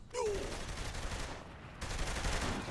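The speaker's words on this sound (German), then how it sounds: "Wir schießen die kaputt." Gunfire in the video game Saints Row: The Third merges into a dense, continuous rattling roar that holds steady for a few seconds, with a brief whining tone near the start.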